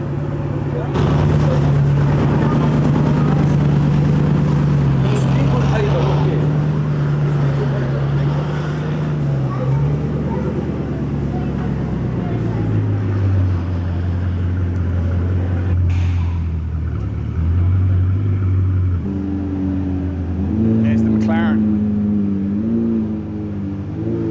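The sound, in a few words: Bugatti supercar driving and turning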